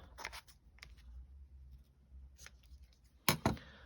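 Scissors snip thread ends on a handmade hedgehog card: a few faint cuts early on, then two sharp, close snips in quick succession near the end, with no voices.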